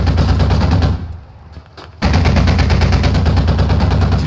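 A .50 caliber machine gun fires in a video game, loud sustained rapid bursts with a brief gap in the middle before the fire resumes.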